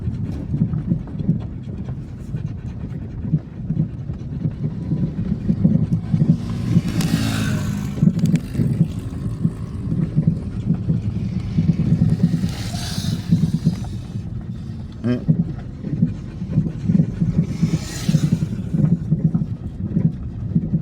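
Motorcycles pass by one after another, with one rider pulling a wheelie; engine roars swell and fade as each bike goes by, over a steady low rumble.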